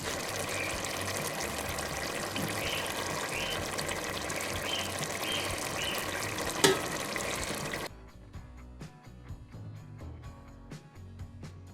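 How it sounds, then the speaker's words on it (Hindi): Ground onion paste sizzles and fries steadily in a pan while chicken korma is cooked, a loud, continuous crackle that drops to a quieter, sparser sputter partway through. "अब हम इसे 5 मिनट के लिए भून लेंगे।"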